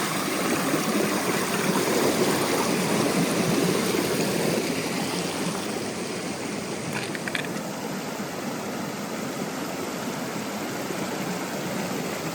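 Steady rush of a flowing stream fills the scene as a dog wades across it on a hike, the water loud and continuous with a faint rattle partway through and no talking.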